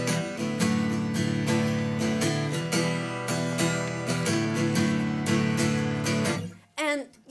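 An acoustic guitar strums the chords of a song in a steady, close, even rhythm, then stops abruptly. A voice follows briefly.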